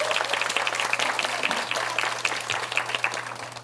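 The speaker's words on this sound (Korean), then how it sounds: "네, 큰 박수 부탁드립니다" Audience applause at a Seoul policy debate forum on childcare integration, welcoming a health and welfare committee vice-chair; a steady, moderately distant wash of clapping from a seated crowd that holds evenly throughout with a low hum underneath.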